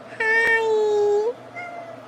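A house cat gives a clear, close meow of about a second, followed by a softer, shorter second meow, alone in a quiet room.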